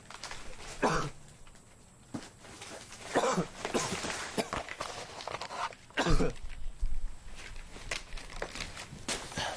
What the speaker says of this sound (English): Oh, he's got the cough bad.